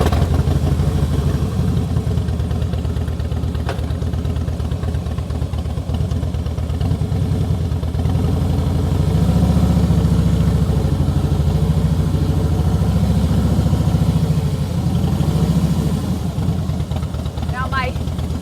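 A motorcycle engine running at idle with a steady low throb close by, a slight rise and fall in tone as the clutch and throttle are worked, and a voice talking over it.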